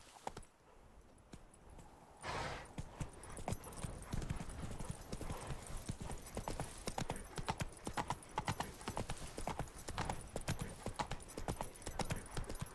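A horse's hooves clip-clop in a steady trotting rhythm in Witcher 3: Blood and Wine, starting after a quiet opening and continuing loud and close, with a faint whinny-like tone and game ambience underneath.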